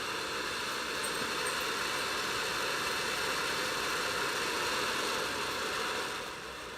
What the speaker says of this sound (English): Engines full power and liftoff of Starlink.